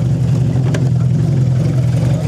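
The small engine of a little off-road kart drones loud and close at a steady pitch, a continuous buzzing rumble with a brief sharp click partway through.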